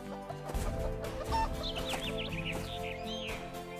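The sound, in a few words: hen clucking sound effect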